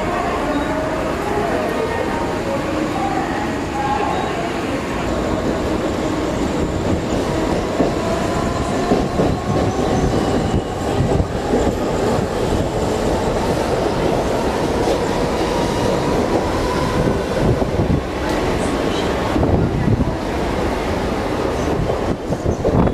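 A train moving through a busy Mumbai railway station, with continuous rumbling wheels, rattling carriages and occasional squeals on the tracks, steady and close, with faint voices in the background.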